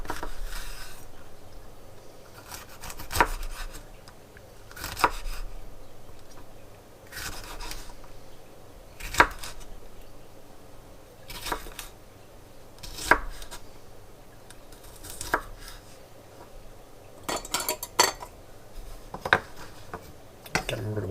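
A knife slices through a jalapeno on a cutting board, producing about ten sharp, evenly spaced chopping taps, close and fairly quiet, with faint background hiss between strokes.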